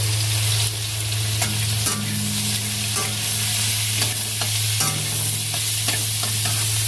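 Onions fry and brown in a pan of oil while being stirred for a curry gravy. A steady close sizzle runs throughout, with scraping and clinking stirring strokes over it and no talking.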